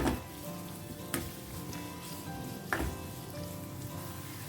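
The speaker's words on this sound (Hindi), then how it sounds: "प्याज को ना 1-2 मिनट के लिए अच्छे से भून लेते हैं।" Onions sauté lightly in a pan with an even, close sizzle, broken by a few sharp clicks of the spoon as they are stirred.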